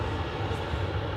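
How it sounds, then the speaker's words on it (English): A Boeing 737 Max 8 airliner rolls past the terminal at Adelaide Airport, a steady low engine roar and rumble heard from a moderate distance with no voices. "So the Max 8 is just coming past the terminal now, Mark."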